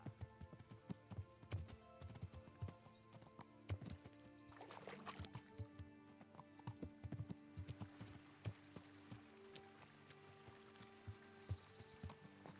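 Horse hooves clip-clop in the medieval video game Kingdom Come: Deliverance, a quiet, irregular stream of hoofbeats with faint game ambience behind them.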